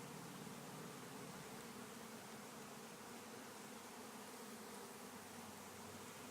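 Honey bees buzzing at an open hive during an inspection, a steady dense hum that holds for the whole stretch at a low, even level with no talk over it.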